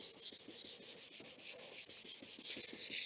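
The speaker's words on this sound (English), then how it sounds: "you're going to try your best to actually sand this evenly along" A plastic car headlight sanded by hand, heard as a fast, even rhythm of close rasping strokes, roughly six per second and all at a steady level, with no voices.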